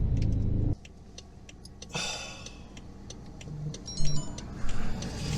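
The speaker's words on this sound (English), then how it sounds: "Drivetrain malfunction, and you can hear it's misfiring" A BMW 550i with a drivetrain malfunction runs roughly with a misfire, giving a low, uneven engine rumble broken by irregular ticking and tapping, heard alone at close range.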